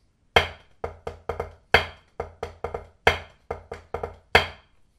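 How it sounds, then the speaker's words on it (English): A snare drum played close up with one hand: repeated flam drags, a grace-note flam followed by quick double strokes and taps, crisp and ringing, with short pauses between. "So if we were to play the flam drag with one hand on the drum"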